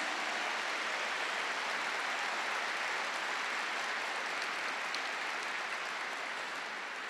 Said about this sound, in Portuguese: Essas palmas são para vocês